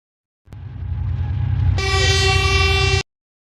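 A train rumbles past, then a loud, sustained multi-tone train horn blasts over the noise until it cuts off abruptly.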